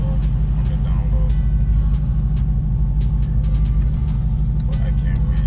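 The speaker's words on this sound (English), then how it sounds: "if you can hear the rumble on the down low." Dodge Challenger Hellcat muscle car engine giving a steady low rumble throughout, loud and close with no clear revs, with faint talk over it.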